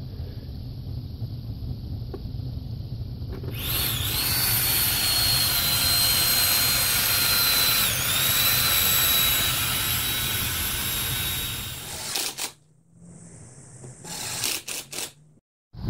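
A Toyota Tundra air pump runs on 12 volts fed from Prius hybrid cells, starting with a loud, steady high-pitched whine and droning hum that holds for about eight seconds, then cuts off and briefly restarts.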